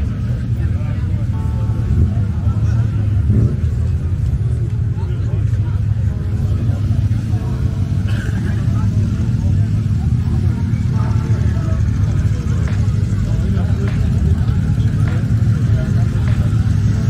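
A BMW engine at a BMW car meet, the BMW Power Day 2022 at Lenkwerk Bielefeld, a low steady engine rumble running throughout with brief sharper peaks and a busy outdoor crowd murmur around it.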